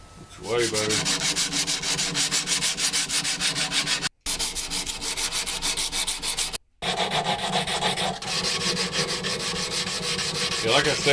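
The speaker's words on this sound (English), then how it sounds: "Little hand sanding, a good shine on it." Steady, continuous rasping of hand sanding on wood, strokes blending into a dense scratchy hiss with two brief pauses, close and fairly loud.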